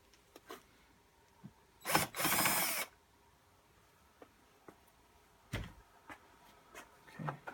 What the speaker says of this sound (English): This time we're going to take these screws out.